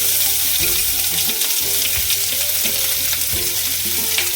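Chopped onions and green chillies sizzle in hot oil with popped mustard seeds, fenugreek and curry leaves, crackling continuously and close up while a spoon stirs and scrapes the pan.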